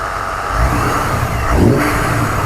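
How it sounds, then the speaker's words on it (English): Supercharged BMW E39 M5 with the S62 V8, which is not building boost, revs up twice in quick succession from idle, loud and close. "I'll get you to just rev it a little bit."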